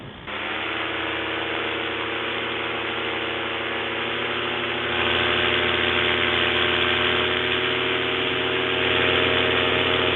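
A steady, loud engine drone from an aircraft running at power during a climb, holding an even tone throughout and growing slightly louder midway, with no voices.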